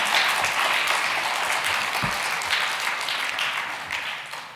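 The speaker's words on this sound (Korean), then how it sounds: "박수하겠습니다." Church congregation applauding at a special Friday evening service, a steady wash of many hands clapping together that fades gradually toward the end.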